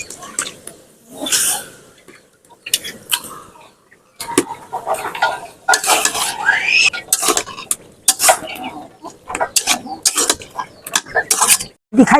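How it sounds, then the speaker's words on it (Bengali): Chicken pieces go into a pan of fried spices for a bottle-gourd curry, with metal spoon scrapes and clatter against the pot in bursts, close and fairly loud, and someone speaking between the stirs. "মশলা কষানো হয়ে গেছে, দিয়ে দেবো মাংস"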